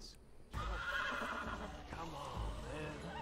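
A horse neighs loudly in a Fear The Walking Dead episode, a single drawn-out whinny rising over rumbling dramatic sound with heavy low thuds.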